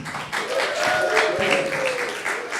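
Audience applause for a volunteer named Eureka at a talk with a comedic prize segment, a steady wash of clapping from a crowd with faint voices and tonal sounds over it.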